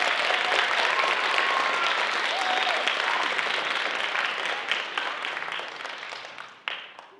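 An audience at a stage show of young talents applauds, with a loud, dense wash of clapping that stays strong for several seconds, then thins and fades toward the end.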